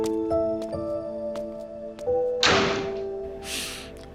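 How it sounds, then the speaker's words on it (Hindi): Door closing indoors: a few soft thumps under sustained background music, then a louder thud and a brief rushing noise near the end. "जाओ और दरवाजा बंद करो।"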